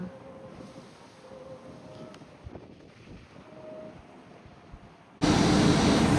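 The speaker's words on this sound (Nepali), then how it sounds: "हावा चलिराखेकोले हल्का डिस्टर्बेन्स पनि गरेको छ" Wind blasts into a camera microphone outdoors in Edinburgh, starting as a faint low rumble with distant ambience, then turning into a sudden loud roaring buffet near the end.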